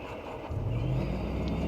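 A boat engine in the eSail sailing game hums low and steady, swelling slightly in level after a brief moment, a continuous motor drone with no talking.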